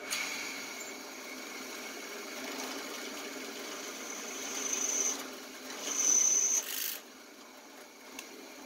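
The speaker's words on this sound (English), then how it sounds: "using a high-speed steel drill bit in brass, turning at 2450 RPM, which is as close as I can get to the recommended speed" A high-speed steel drill bit cuts into brass at 2450 RPM, a steady machine whir with a thin high whine that grows louder and rougher near the end as the bit bites, then drops back.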